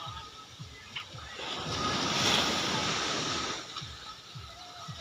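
Ocean surf roars in a broad wash that swells to a peak midway and slowly recedes, with low rumbling and gusty wind noise throughout.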